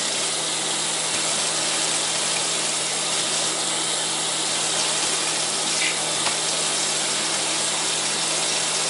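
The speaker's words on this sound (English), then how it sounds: "You just rinse it with the water." Tap water runs steadily into a sink while a glass is rinsed, a constant hissing rush throughout with a faint low hum underneath.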